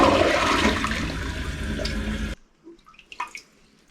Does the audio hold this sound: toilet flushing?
yes